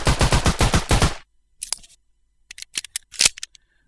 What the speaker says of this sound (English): if I click the mouse button, it fires a bullet and ejects the cartridge from the side.